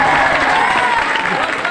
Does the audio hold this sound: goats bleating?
no